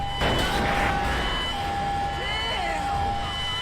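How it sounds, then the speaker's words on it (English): Emergency vehicle sirens wail steadily through a driving video game, a continuous electronic siren tone running the whole time alongside engine and traffic noise, with a voice talking over it. "Alright, turn the sirens off. They're driving me nuts."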